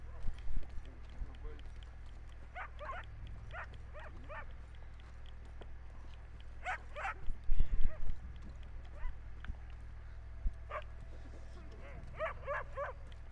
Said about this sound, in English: But I'm sure you can hear the dog.